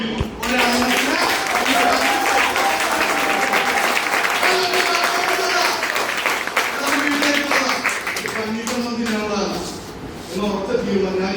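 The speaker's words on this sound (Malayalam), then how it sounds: "കൈയടിച്ച് ഉറപ്പിക്കുന്നു." Audience members clap together during a class session, a loud, sustained round of applause that swells and then thins toward the end while a voice talks over it.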